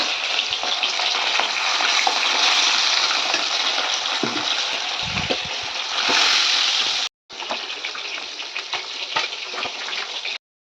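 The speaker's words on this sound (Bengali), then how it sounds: "এবার ভাজবো এই যে বড় মাছ কাটাপোনা" Rohu fish steaks sizzling steadily in hot oil in a Bengali home kitchen, a loud continuous crackle and spatter that breaks off briefly near the end, then resumes.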